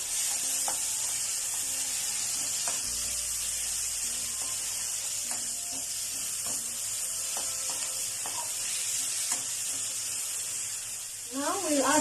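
Small tomato pieces sauté in a pan for a bitter melon and egg dish, giving a steady sizzle with occasional stirring clicks and scrapes. A voice is heard briefly near the end.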